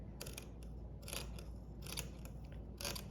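Scissors cut fabric for a beach cover-up in four quick, crisp snips spaced about a second apart, close and quiet against a soft background hum.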